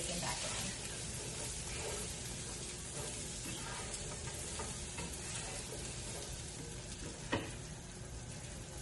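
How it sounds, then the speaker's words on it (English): Garlic and bacon sauteing in a pan for a holiday side dish, a continuous close sizzle with light stirring noises and one sharp knock near the end. "So while this is kind of sauteing, I'm going to throw in some garlic and then throw the bacon back in."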